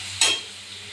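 Chopped onion dropped into hot mustard oil in a kadai gives a sudden close sizzle burst that quickly fades to a faint steady hiss over a low hum.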